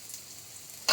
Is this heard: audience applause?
no